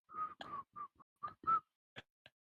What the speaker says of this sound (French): Je me mets à siffloter.